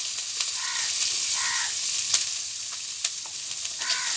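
Green chilies and onion fry in a pan with a steady close hiss of sizzling oil, punctuated by a few light clicks and scrapes from stirring, no talk.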